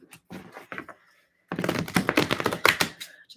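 Tarot cards being shuffled by hand during a reading: a sparse run of soft riffling taps, then a denser, louder burst of rapid card flutters and slaps, close and alone.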